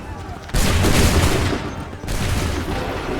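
Musket volley fired on command in Assassin's Creed III, two loud rolling crackles of massed shots, the first starting abruptly and dense, the second following shortly after as a slightly softer ragged barrage.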